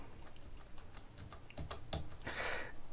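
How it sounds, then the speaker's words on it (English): Key presses on a standard membrane dome keyboard for Sky Digital interactive TV, giving a handful of soft, separate ticks close by and then a brief louder rattle near the end. "it's a standard membrane dome keyboard"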